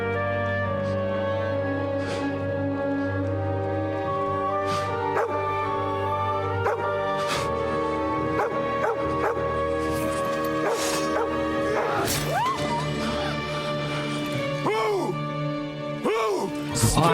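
Dog barking, yipping and whimpering in the medieval video game Kingdom Come: Deliverance II, repeated yelps rising over a steady bed of game music and sound, with a voice briefly speaking.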